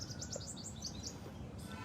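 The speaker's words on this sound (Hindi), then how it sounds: "जब चारों तरफ प्रकृति ही हो, चिड़ियों की आवाज़ हो" Small birds chirp and tweet repeatedly in a quiet outdoor morning setting, with bright, quick calls coming in bursts over a soft, steady background hum.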